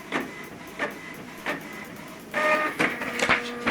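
An Epson WorkForce WF2950DWF inkjet printer prints a document, giving a run of mechanical clicks and whirring carriage passes in a loose rhythm, then a denser grinding feed toward the end, close and alone.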